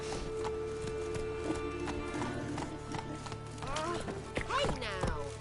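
In The Witcher 3: Wild Hunt, the horse Roach gallops with a quick, steady clip-clop of hooves that carries through the whole passage, while a voice speaks over it.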